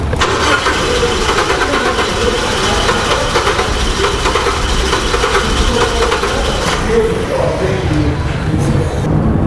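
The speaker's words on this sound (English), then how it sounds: "the engine is just spinning faster where it's trying to start, and then it's spinning slower as it comes down" The engine of a 2003 Mazda Protege 5 cranks steadily without catching, a continuous loud mechanical churn with rhythmic pulsing that holds for several seconds before easing off near the end.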